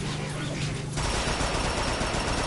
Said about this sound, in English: It's like a machine gun.